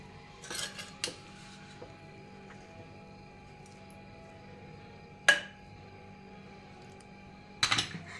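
Masala rice being stirred together with fresh coriander in a pan, giving a few sharp clinks and scrapes of a spoon against metal amid quiet background noise, with no talking.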